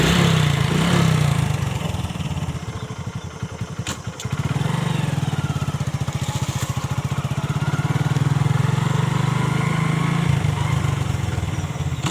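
A Hero Super Splendor motorcycle engine idles nearby, a steady low putter running the whole time, briefly dipping and picking up again partway through.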